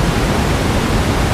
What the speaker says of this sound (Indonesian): dengan deburan air debit yang luar biasa